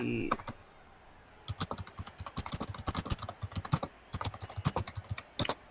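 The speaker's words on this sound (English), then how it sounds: "What are you typing to, Mers?" Computer keyboard typing in bursts of quick, crisp keystrokes with short pauses, fairly close and moderately loud, during a break in an online football league game.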